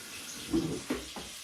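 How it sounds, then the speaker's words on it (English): Tap water runs briefly into a kettle in a home kitchen, a few short splashing bursts over roughly a second, close and fairly quiet. "I'm going to put the kettle on because I will need probably about just over a pint of"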